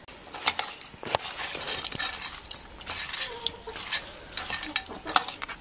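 Spices, garlic, curry leaves, coarse salt and kokum stirred together for a fish curry over a wood-fired village stove in the Konkan, with scattered scraping and light clinking strokes at an uneven rhythm, close and moderately quiet, with no talking.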